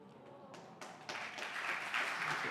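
A church congregation breaks into applause during a pastor's testimony: scattered claps at first, then building into steady, moderately close clapping from a seated crowd.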